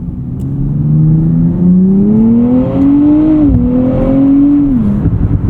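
A 2024 Nissan Z NISMO engine drones loudly from inside the cabin, its pitch climbing steadily as it revs, dipping briefly, then rising again before falling off with a slight burble.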